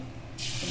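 A cup of water is suddenly poured into a pan of onion, tomato and masala with a rushing splash that starts midway and continues to the end, close and fairly loud.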